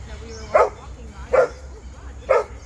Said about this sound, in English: So Zuri is barking because, you know, her idea of fun is you chase her